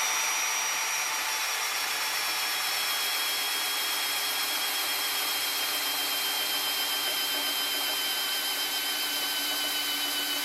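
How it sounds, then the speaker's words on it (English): Hand drill spinning the shaft of a homemade hydroelectric dynamometer, a steady loud continuous whine with high tonal overtones running unbroken throughout, close and with no talk. "a lot of that is coming from me driving this with a drill"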